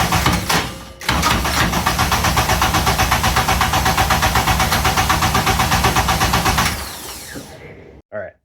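The starter on a Toyota MR2 KW11 cranks steadily and rhythmically for several seconds without the engine catching, then winds down and stops, loud and close, followed by a brief click.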